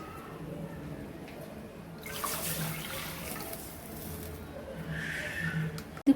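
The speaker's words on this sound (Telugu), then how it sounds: "ఇప్పుడు వాటర్ పోస్తున్నానండి" Water is poured into a pan of already-boiled milk for upma rava prasadam, two cups in all, giving a soft, steady splashing stream that swells in brief bursts over low background noise.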